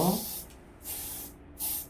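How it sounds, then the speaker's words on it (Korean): Hairspray sprayed onto an updo during exam practice: three short close hissing bursts separated by brief pauses, the first overlapping a faint voice. "다시 요 선을 스프레이해서 이렇게 올려줘야 돼요"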